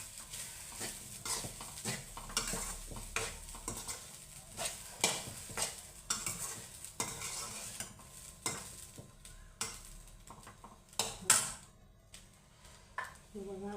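Grated coconut roasting in a pan for coconut burfi, a utensil scraping and clattering steadily against the metal over a soft dry sizzle, close by, with occasional voices in the background.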